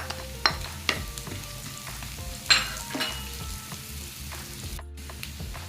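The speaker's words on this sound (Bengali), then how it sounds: "পেঁয়াজটা হালকা ভাজা হয়ে গেলে তার মধ্যে দিয়ে দেব রসুন কুচি।" Chopped garlic and onions fry in a pan for a home-style shakshuka, giving a steady sizzle broken by a few sharp taps from stirring and a brief dropout near the end, with no voices.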